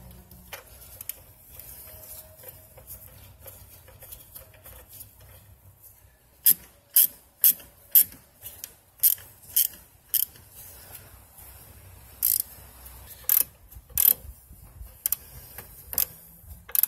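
A ratchet loosens bolts on the valve cover of a 3.8-liter Jeep Wrangler JK engine, making rapid, evenly spaced clicking runs that sound close and crisp against a quiet garage background with faint handling noises.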